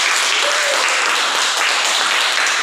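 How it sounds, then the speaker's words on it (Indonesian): Students in a classroom applaud together, producing a loud, dense, continuous burst of clapping with no talking over it. "Maka saya berikan dulu tepuk tangan untuk anak kami semua."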